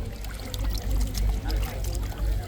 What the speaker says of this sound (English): then that jam jar I just put a tiny splash in